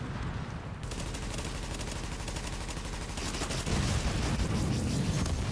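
Enemy gunfire in The Division: rapid sustained automatic bursts rattle continuously and loudly throughout, growing heavier toward the end, with no talking over it.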